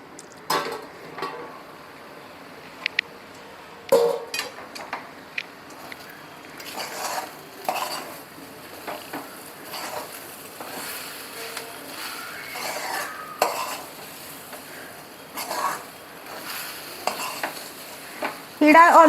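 A spoon scrapes and stirs soaked, ground chana dal through hot tempering for Marathi vatli dal, giving irregular close scraping strokes over a faint sizzle, with occasional clinks against the pan.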